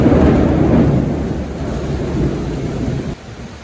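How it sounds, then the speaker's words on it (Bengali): Heavy rain pours steadily while deep thunder rumbles loudly at first and then slowly fades, with no voices. "মেঘের শব্দ শুনে তো বুঝতে পারতেছেন কি পরিমাণ বৃষ্টি হইতেছে।"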